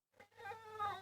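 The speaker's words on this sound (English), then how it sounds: "Good little kitty cat." A single drawn-out cat meow, quiet but clear, rising and holding a tonal, bleat-like quality for about a second with no speech over it.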